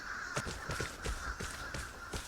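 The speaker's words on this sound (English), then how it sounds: "But then crows go off." Several crows caw repeatedly in the Vigor video game, a rhythmic series of harsh calls at moderate distance over a constant background hum.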